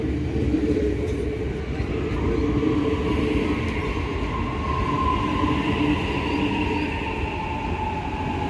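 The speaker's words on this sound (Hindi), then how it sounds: "लो जी हमारी ट्रेन आ गई, हम जाएंगे सिटी" A train pulls into a station with a loud, steady rumble and a long, drawn-out wheel squeal running throughout, heard close by without talk.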